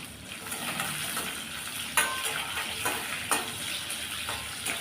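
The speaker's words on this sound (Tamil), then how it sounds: "இது நல்லா வறுபடட்டும்" Dry red chillies fry in a pan for a Chettinad fish curry, with a steady close sizzle and a few sharp scrapes of stirring; no one speaks.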